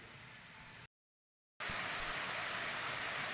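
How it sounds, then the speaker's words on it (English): A small waterfall comes off a wooded hillside beside a trail and gives a steady broadband rush of falling water, interrupted by a brief cut to silence before the pour resumes. "Nice little waterfall coming off the hillside, not even a mile in"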